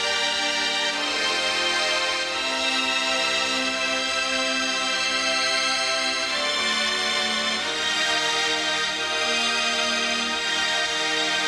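Orchestral woodwinds and strings play together in a sustained, full arrangement, with long held chords and shifting harmonies that keep a dense, steady texture throughout without any talking.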